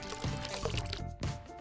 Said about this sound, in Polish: Dodaj 60 ml ciepłej wody do pół łyżki agaru.